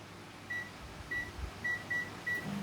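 A microwave oven heats a Tupperware micro pressure cooker of homemade chicken and prawn stock, giving a faint, steady hum punctuated by a series of short electronic beeps.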